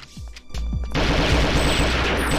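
Weapon fire in the shooter game Perfect Dark: a few separate shots, then dense, rapid, punchy automatic gunfire that carries on steadily to the end.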